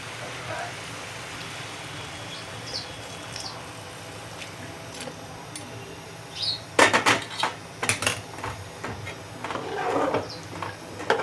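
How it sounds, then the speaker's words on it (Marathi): Hot water is poured into boiling rice in a cooking pot on a home stove, giving a soft watery rush over a steady background, with a few sharp metallic clanks of utensils against the pot partway through. "आता हे गरम पाणी आपण त्या भातामध्ये टाकणार आहोत"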